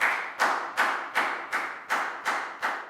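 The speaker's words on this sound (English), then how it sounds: "And a round of applause for everybody because that was a great job." Children in a Year 4 class clap together in a tight, regular rhythm, eight crisp group claps spaced evenly, nearby in a small room with nothing else over them.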